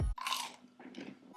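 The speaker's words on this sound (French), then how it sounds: "je vais juste vous faire écouter comment ça croustille quand je vais manger à côté" A close, crisp bite into a crunchy vegetarian nugget, followed by a few crackling chewing crunches, loud and alone.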